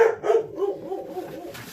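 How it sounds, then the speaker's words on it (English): A dog barks a few times nearby in a home kitchen, the short sharp barks tapering into softer whimpering yips, with no talking. "Sorry about the dog again."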